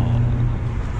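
A Mercedes E430 with a V8 engine pulls away from a standstill, its deep, steady low engine rumble close and continuous inside the car.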